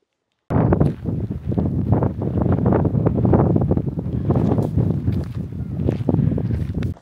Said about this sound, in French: là il se met à pleuvoir, il y a beaucoup de vent